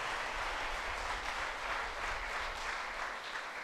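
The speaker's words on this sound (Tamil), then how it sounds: "கைதட்டி வாழ்த்துக்கள் தெரிவிப்போமா?" A congregation claps together at a church feast-day flag-hoisting Mass, a steady, dense wash of applause filling the whole stretch at even loudness with no voices over it.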